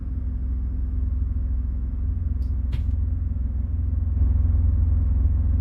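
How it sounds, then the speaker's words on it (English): Hypercar exhaust in the Assetto Corsa racing game, a low steady engine rumble idling close by, swelling slightly louder near the end, with a brief faint tick partway through and no talking. "Listen to the exhaust."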